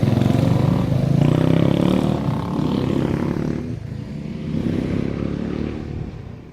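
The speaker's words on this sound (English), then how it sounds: "we've got a lovely lot of green lane motorbikes" Green lane motorbikes passing a VW Golf on a country road, a loud droning engine rumble that swells, dips, then rises again as the bikes go by.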